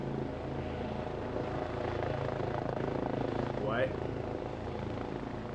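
Helicopter rotor chopping steadily in a video game, a continuous low thrum held at an even level throughout, with a brief voice cutting in near the end.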